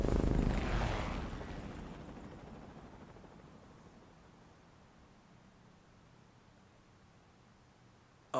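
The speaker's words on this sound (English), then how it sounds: "That looks like a 3D helicopter." A helicopter in the Persona 5 Royal video game sweeps by as a loud, broad whooshing roar that fades gradually over several seconds into quiet hiss, with no talking.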